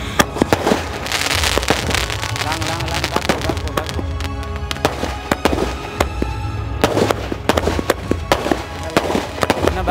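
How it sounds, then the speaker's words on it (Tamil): A 60-shot firecracker fireworks cake bursts in Sivakasi, firing a rapid, continuous run of sharp bangs and crackling pops at close range. "அடுத்து நம்ம 60 ஷாட்ல நான் ஸ்டாப் இப்ப ரஷ் வந்து வெடிக்க போறாரு."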